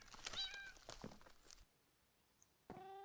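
Several meows from a Minecraft cat mob, a cluster of close, clear calls followed by a short pause and then one more meow, with no talking.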